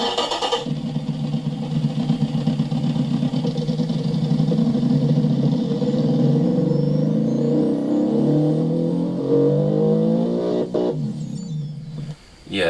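Car engine in a racing video game, built with a non-inline-four layout, revving loudly and steadily for about twelve seconds with rising and falling pitch and no talk over it.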